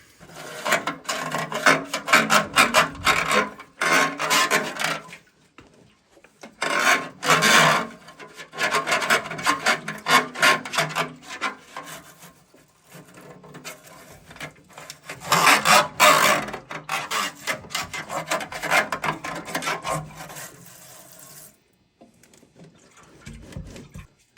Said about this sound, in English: So let's start getting some scrubbing going on here, and we'll get this stuff cleaned out.